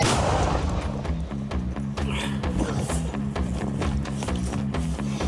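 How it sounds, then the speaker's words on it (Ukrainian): Repeated sharp mortar firing reports from a Finnish mortar crack over a steady low droning rumble, loud and close, with a rhythmic mechanical thumping underneath. "Постріл!"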